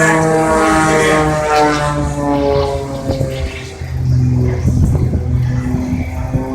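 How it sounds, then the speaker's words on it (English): A propeller-driven aerobatic airplane performing snap rolls and looping maneuvers at the Virginia Beach Airshow, its engine droning loudly and continuously with a steady harmonic tone that shifts slightly in pitch as it arcs overhead. "snap rolls the aircraft, and heads back to the Earth again."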